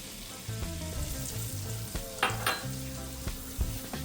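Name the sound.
flour roux cooking and being stirred in hot pan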